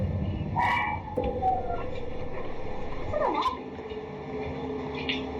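A dog howls and yelps from a short distance, its voice rising and bending in a few drawn-out wails over a steady background hum.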